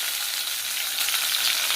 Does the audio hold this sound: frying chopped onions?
yes